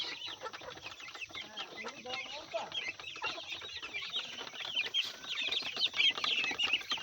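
Many chickens, including white desi hens, cluck and chatter nearby in a busy, overlapping flock, with occasional wing flaps and faint voices in the background.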